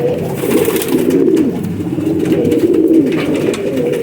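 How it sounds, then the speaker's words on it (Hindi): Kasuri pigeons coo in a steady, overlapping chorus from a loose flock in an open loft area, soft throaty rolls repeating close by without any voices. "ये सारे कबूतर जो कसूरी कबूतर आपको दिखा रहे हैं ना"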